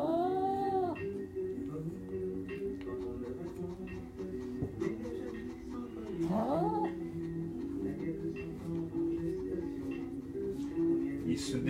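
A cat being groomed and dematted at a grooming salon struggles and cries out, with several drawn-out wailing meows under steady background noise and a person talking nearby.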